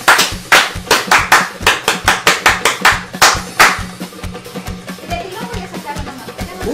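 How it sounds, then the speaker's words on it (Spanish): Steady, rhythmic applause from a crowd, loud and close for several seconds before thinning out and fading under faint background voices. "Un aplauso para Nadia Rodríguez."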